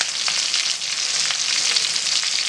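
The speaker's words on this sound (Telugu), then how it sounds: "సో ఫ్రై అవుతుంది కదండి నేను డిస్టాన్ చేసుకున్నాను లెగ్ పీసెస్ని" Chicken leg pieces frying in hot oil make a loud, dense, crackling sizzle, close and constant throughout, with small popping bursts and no talking.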